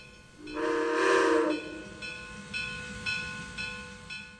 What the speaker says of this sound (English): With 2 toots of the whistle and passengers boarded, 1702 announces her departure for the trip to Nantahala out of Bryson City